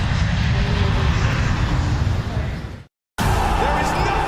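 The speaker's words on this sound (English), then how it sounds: "Gamer Legion Airlines is now preparing for takeoff from Stockholm" Loud, close roar of a fixed-wing airplane engine at takeoff, sustained and dense, cut briefly by a sudden dropout of silence before the engine noise resumes at full strength.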